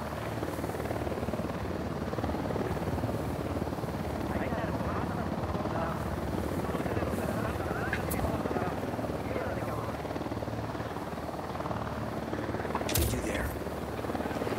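A helicopter in the Ghost Recon Wildlands video game flies with a steady, loud rotor drone throughout, joined by a few brief sharp sounds near the end.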